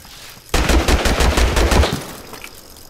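A sudden burst of rapid automatic gunfire in the video game Totally Accurate Battlegrounds, loud and continuous for about a second and a half, then trailing off into low background noise.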